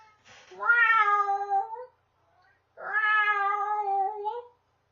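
A cat meows twice, long drawn-out close calls separated by a short pause, loud and clear with no other sound.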